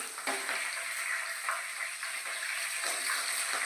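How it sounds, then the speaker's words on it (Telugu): Curry leaves and onion fry in a pan for a fish curry, making a constant close crackling sizzle broken by a few soft stirring scrapes. "కరివేపాకు వేగిపోయింది"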